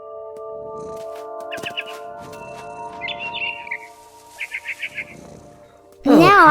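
Small bird chirps in the video game What Remains of Edith Finch, heard as several short, bright trilled bursts over a steady sustained drone, followed by a sudden louder sound at the end.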